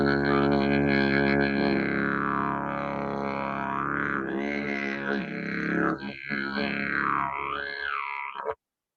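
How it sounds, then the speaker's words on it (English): A box didgeridoo, a wooden box with internal chambers standing in for a long didge, drones steadily with a deep fundamental while the overtones sweep and warble up and down for about eight seconds, played alone and close before it cuts off. "This is a box didgeridoo."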